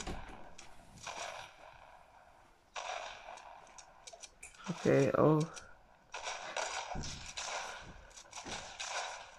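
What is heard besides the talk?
gunfire in a shooting video game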